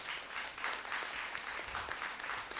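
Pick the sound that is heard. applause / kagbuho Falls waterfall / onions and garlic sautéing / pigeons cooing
applause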